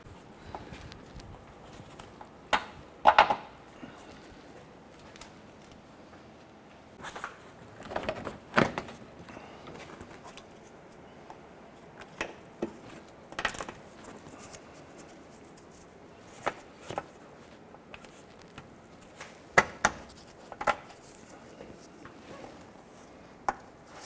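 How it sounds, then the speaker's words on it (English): Plastic trim buttons pressed into the bumper of a 2008-2012 Honda Accord, giving sparse, sharp clicks and snaps scattered over a quiet background, fairly faint and with no talk. "Let's go ahead and install the rest of our trim buttons."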